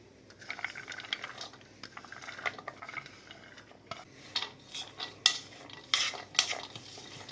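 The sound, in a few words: stirring vegetables into masala in a bowl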